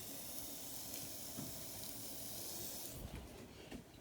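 Onions hiss softly in hot oil in a pan, a faint, steady sizzle that brightens toward the end, heard alone.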